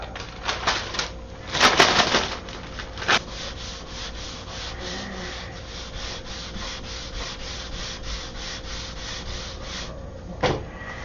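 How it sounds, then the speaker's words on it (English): Balsa wood sanded by hand, with brisk scratchy rubbing bursts near the start, a single short stroke around three seconds and another near the end, with a quiet pause between. "Let me take this up and sand it off."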